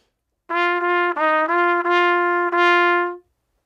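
A bright solo trumpet plays a short blues phrase of repeated, precisely rhythmed notes with small quick ornaments, clear against silence.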